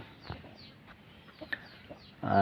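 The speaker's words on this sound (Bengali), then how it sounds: "আমাদের এদিকে মোটামুটি পাখির অনেকগুলো ডাক উঠে গেছে" Birds call outdoors in a few short clucking, fowl-like notes over faint background, ending in a louder burst of noise.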